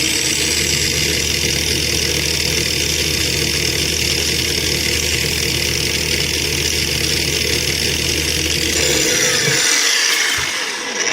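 A Heimerdinger LB184 cordless angle grinder runs steadily at speed with a constant motor whine and hum, then spins down and stops near the end, with no voices.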